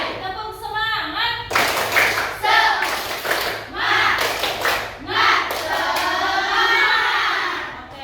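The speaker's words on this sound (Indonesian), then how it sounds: "Tepuk semangat." A classroom group stands and performs a rhythmic spirit clap, tepuk semangat, as an ice-breaker: bursts of patterned handclaps in quick sequences, mixed with voices chanting and talking throughout.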